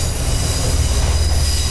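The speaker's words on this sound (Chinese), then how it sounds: "所以这边是会有火车的耶。" A train rolls along a railway line nearby, a loud steady rumble with metallic wheel squeal and faint clatter, continuous throughout with no voices.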